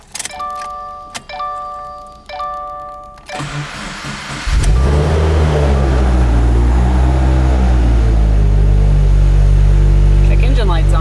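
A twincharged Subaru WRX engine cranks and fires up after a few chimes and clicks, then settles into a loud, steady idle with a deep rumble that holds to the end.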